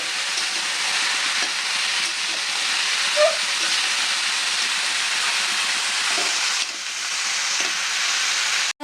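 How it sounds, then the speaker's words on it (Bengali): A vegetable curry of potato, cauliflower, carrot, peas and egg sizzles steadily in a pan as it is stirred, giving a close, continuous hiss with faint scraping and no talking. "পরিমাণ মতন লবণ দিয়ে দিলাম এবার তরকারিটা আমি ভালো করে নেড়ে"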